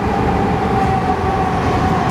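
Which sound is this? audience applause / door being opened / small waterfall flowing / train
train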